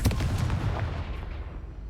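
Confringo spell blasts in Hogwarts Legacy on PS4, a rapid burst of booming explosive cracks up close that fades into a rumbling decay.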